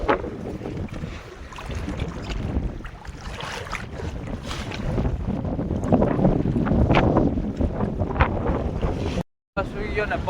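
Strong wind roars across a fishing boat at sea, a loud continuous buffeting rush mixed with splashing water and hull noise, with a brief dropout near the end.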